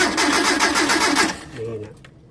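A Mitsubishi L300 van engine cranks in a rapid rhythmic churn for over a second, then stops, leaving a low hum and a few faint clicks.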